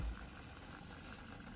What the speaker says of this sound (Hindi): पंप वाइब्रेट कर रहा है, आपको दिख रहा होगा,